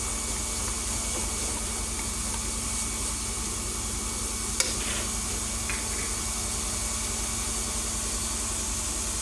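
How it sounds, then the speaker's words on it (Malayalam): Vegetables for chicken fried rice sizzle steadily in a hot pan while being stirred, a constant, close hiss with a few faint clinks, and no one talking. "ഇങ്ങനെ ഇളക്കി കൊടുക്കാം."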